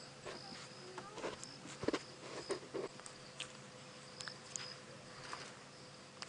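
Crickets chirp faintly and intermittently at night on a safari game drive, short high trills scattered over a quiet, steady background hum.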